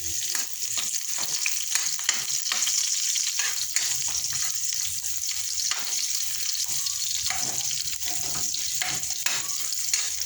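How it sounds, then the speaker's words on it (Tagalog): Garlic sizzling in a hot pan as the start of a tinola, a loud, continuous crackling fry with soft stirring scrapes mixed in, no voices. "Ayan yung mga bawang natin lalagay."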